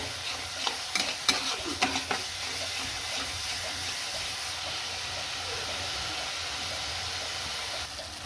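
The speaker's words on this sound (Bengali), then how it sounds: "আর একটু জাস্ট কষিয়ে আমি জল দিয়ে দেবো" Fish head and bone curry sizzles and fries steadily in hot oil, with a few sharp scrapes and clanks of stirring early on, then an even continuous hiss at close range.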